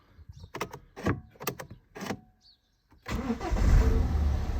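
Several clicks and short cranking bursts, then an engine catches and settles into a steady, loud rumble close by.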